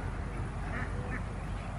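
Two short duck quacks sound faintly in the distance over a steady wash of outdoor background noise.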